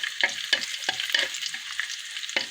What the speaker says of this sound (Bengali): এই চুলার ডাল বাগার দিয়ে দিব